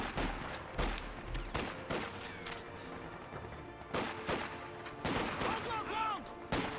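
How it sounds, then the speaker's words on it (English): Gunfire from an infantry firefight in Company of Heroes 2, with a British rifle section fighting from a house; repeated sharp bursts and single shots crack at irregular intervals over a continuous battle din. "Looks like Jimbo's in a good firefight here."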